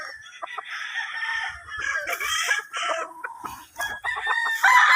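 Young gamecock stags of a fighting-cock breed on a farm, crowing and clucking in overlapping, loud, close calls, with several birds sounding at once and no talking.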